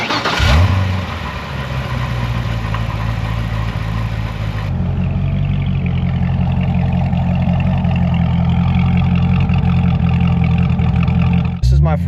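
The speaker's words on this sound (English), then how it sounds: "All right, well, let's start it up and then we'll do some exhaust clips" A stock-exhaust 2009 Chevrolet C6 ZR1 fires up with a sharp starter whir and catch, then settles into a steady, rumbling idle that shifts slightly midway before cutting off abruptly near the end.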